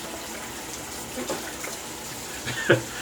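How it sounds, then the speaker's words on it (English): Tap water runs as a shaving brush is rinsed under it, a soft steady wash with a brief louder splash near the end. "I'm rinsing my brush, Peter."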